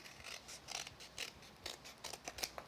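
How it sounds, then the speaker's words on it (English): Scissors snip through a paper craft card in a quick series of crisp, close cuts, about a dozen short strokes in an uneven rhythm, quiet and with no talking. "I'll just trim underneath that on both sides"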